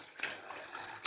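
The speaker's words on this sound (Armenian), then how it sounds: "սառը ջուր ենք լցնում" Cold water pours from a tap over eggs sitting in a cooking pot, a short continuous splashing rush that swells again at the end.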